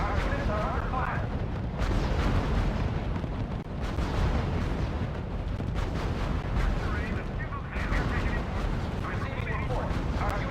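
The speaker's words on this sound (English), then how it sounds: "Our units are under fire" Battle sounds in the strategy game R.U.S.E., with dense rumbling artillery and gunfire booming continuously and loudly, mixed with a radio-style voice.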